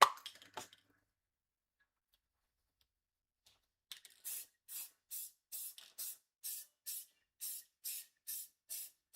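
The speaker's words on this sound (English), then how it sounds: "I'll give it a sealing coat" An aerosol can sprays a flat varnish sealing coat over a painted skull-face portrait: a brief initial hiss, a pause, then a rapid series of about a dozen short, even spray bursts.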